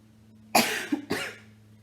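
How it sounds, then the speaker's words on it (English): Two close coughs in quick succession, sharp and throaty, over a faint low background hum. "Cough."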